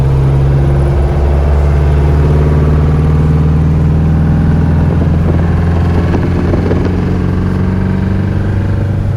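A 1967 Volkswagen engine heard from inside the car while driving in fourth gear, a loud, steady low drone with a constant throb that holds evenly throughout, close and unbroken.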